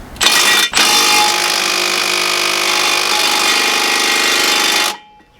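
A rattling impact gun hammers away at the caliper bracket bolt on a '98 LS1 Camaro Z28, one loud sustained burst close by with a brief stutter near the start, then cutting off abruptly.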